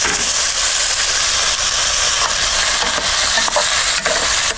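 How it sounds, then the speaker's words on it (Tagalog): Chicken sautés with browned ginger in a pan for chicken tinola, giving a loud, steady sizzle that holds throughout with faint stirring. "Lagay na rin natin yung chicken. Igisa ulit natin."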